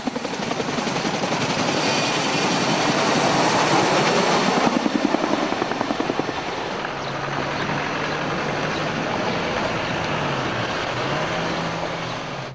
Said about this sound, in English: The Medivac helicopter took the casualties to Camp Bastion, the main British base in Helmand.